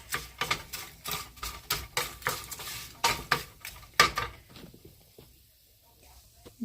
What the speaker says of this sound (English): So go ahead and give these a stir.